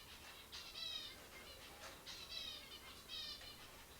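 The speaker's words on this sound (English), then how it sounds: "We hear the birds and we see the birds." Bright, thin bird chirps come in repeated short bursts over a soft outdoor hiss, fairly distant and with no one talking.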